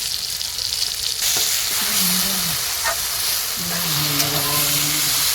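Kalmi greens sizzle and crackle in hot mustard oil with cumin, a steady frying hiss with occasional stirring scrapes and faint background voices.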